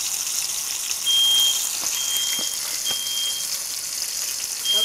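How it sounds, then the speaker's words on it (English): Kitchen fire alarm sounding during deep frying of chicken, a steady high-pitched electronic beep repeating in short bursts over a constant hissing, sizzling background. "That would be my fire alarm. It just went off."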